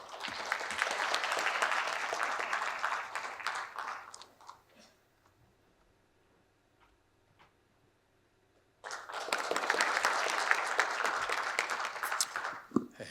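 An audience at the 2024 Human Rights Day ceremony marking the 76th anniversary of the Universal Declaration of Human Rights gives two bursts of loud, dense applause, separated by several seconds of near-silence in the hall.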